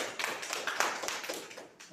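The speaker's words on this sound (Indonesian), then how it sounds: "Tepuk tangan untuk Anggi." Brief, scattered clapping from a small classroom group for a student after her presentation, faint and uneven, lasting under two seconds.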